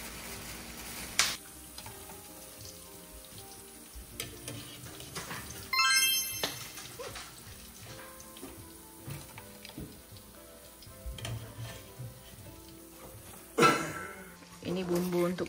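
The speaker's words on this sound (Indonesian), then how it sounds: "Ini yang gorengan ringnya ini aku pakai minyak baru lagi teman-teman" Gluten-free squid rings coated in tapioca flour crackle and sizzle steadily in fresh hot oil, with occasional louder pops and clinks of utensils; someone talks over the frying.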